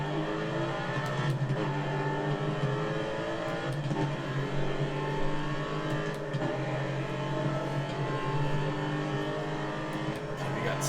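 A Ford Mustang in the muscle car class races around the Indy road course in a NASCAR video game, its engine droning and revving steadily up and down through gears while someone talks over it.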